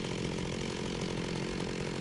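Chainsaw in the Minecraft MGC modpack video game, a steady buzzing motor drone running continuously and fairly quietly for a couple of seconds with no talk over it.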